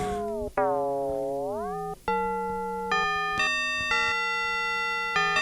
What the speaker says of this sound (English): Oh, you want FM? There's the bell.